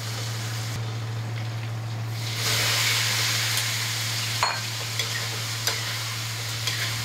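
Beef brisket stir-frying over low heat in a wok gives a soft, steady sizzle with a few scraping stirs and clicks, close by under a constant low hum.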